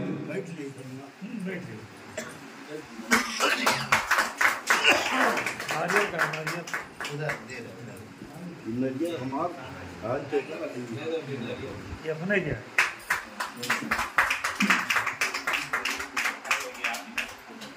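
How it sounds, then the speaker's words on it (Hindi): An audience at a community meeting in Sidhi claps hard in two long rounds of dense applause, with a speaking voice carrying over and between the rounds. "एक जोरदार ताली द्वारा आपका सम्मान करें"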